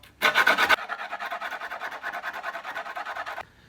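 An old screwdriver rubs hard along the edge of skateboard grip tape in quick back-and-forth rasping strokes, a loud burst first and then a steady scraping rhythm, up close and alone.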